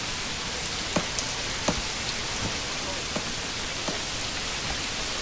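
Steady rain falls in the medieval city-building game Manor Lords, a soft even hiss with scattered louder drops, faint and alone without speech.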